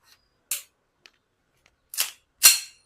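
A Springfield Armory Mil-Spec 1911 full metal CO2 BB air pistol fired a few times, sharp crisp cracks up close, the last two in quick succession, with small clicks between them and near silence otherwise.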